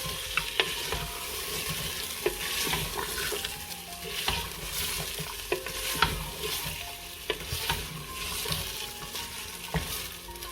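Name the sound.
meat being stirred and fried in a pot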